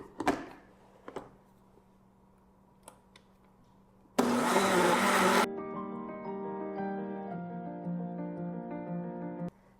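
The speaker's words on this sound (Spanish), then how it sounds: "Entonces la agregamos así en pedacitos y vamos a licuar." Blender whirring as it purées corn masa dough pieces with milk for atole, a loud steady blending burst after a few clicks, then settling into a lower, harmonic motor hum until it stops.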